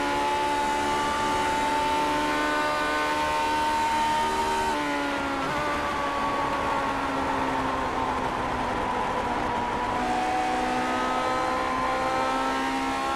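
Vintage Indy race car engine heard onboard in iRacing, a steady loud droning whine that drops in pitch as the car lifts off the throttle and then climbs again, continuous with no talk.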